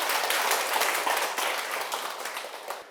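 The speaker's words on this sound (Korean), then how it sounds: "큰 박수 부탁드립니다." A lecture audience at a Sunday Buddhist Dharma talk breaks into thick, full applause after a question is answered, many hands clapping loudly at once before it tapers off near the end.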